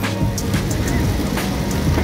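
Steady rain falls at a busy railway station, a dense broadband wash with scattered brief spatters over a low rumble of the platform, continuous and fairly loud throughout.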